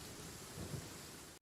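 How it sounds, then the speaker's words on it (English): Roaring thunderstorm guarding a storm barrier in the Genshin Impact video game, a steady dense wash of rain and rumbling with a swelling thunder roll midway, with no voices. "It's a storm barrier. It looks so dangerous."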